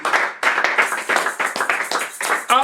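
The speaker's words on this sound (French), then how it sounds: "Est-ce qu'on peut acclamer pour le Seigneur?" A church congregation claps in praise of the Lord, a loud, close burst of rhythmic hand claps over nearly three seconds, with some cheering mixed in.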